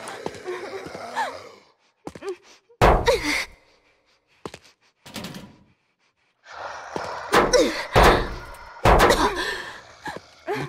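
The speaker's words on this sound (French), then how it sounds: "On entend qu'il y a un zombie dedans, mais visiblement... C'est trop costaud pour lui." A zombie trapped behind a sturdy door in a survival video game pounds against it in irregular heavy thuds and slams, separated by quiet gaps, with rustling and grunting bursts between.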